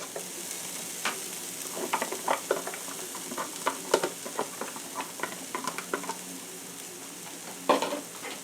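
Half a cup of onions frying in melted salted butter, a close, continuous crackling sizzle with bursts of sharper pops and spoon stirring clicks, no talk.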